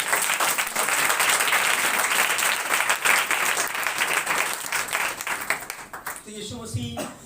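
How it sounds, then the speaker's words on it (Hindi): A church congregation claps their hands in sustained, lively applause, dense and steady throughout, with a voice speaking over it as the clapping eases toward the end. "ताली बजाएं यीशु मसीह को।"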